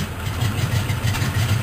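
A de Havilland Beaver DHC-2 aircraft engine turns and catches, giving a loud, low, pulsing rumble that grows uneven as it comes to life, with no voices over it.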